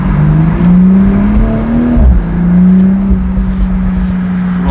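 BMW Z4 M40i convertible driven top-down in Sport Plus mode with manual shifting: a loud, close engine and exhaust drone that climbs in pitch, drops briefly at a shift, then holds a steady note with wind rush over it.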